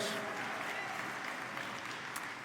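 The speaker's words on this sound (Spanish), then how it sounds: "¿Le puedes dar un aplauso a Jehová proveedor?" A church congregation applauds during a Spanish-language worship sermon on divine healing, a dense, steady wash of many hands clapping at a moderate distance throughout, with some voices mixed in.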